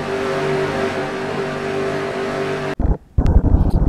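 Race cars roar through a Roblox NASCAR video game race, a dense, steady engine drone that cuts off abruptly near the end, followed by choppier, uneven engine bursts.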